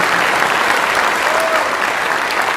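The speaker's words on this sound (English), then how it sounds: "please join us in a final round of applause for all of the 2026 competitors" A crowd at the Best CBRN Warrior Competition awards ceremony applauds the competitors, loud, dense and sustained clapping throughout without any voice on top.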